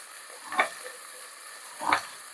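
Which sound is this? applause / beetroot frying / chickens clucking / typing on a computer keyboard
beetroot frying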